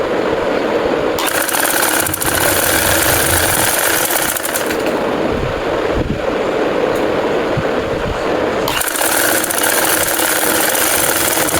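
Sewing machine stitching along an existing seam while attaching a placket strip to fabric, a dense, continuous mechanical whirr with brief pauses around 1 and 9 seconds, loud and close with no talking.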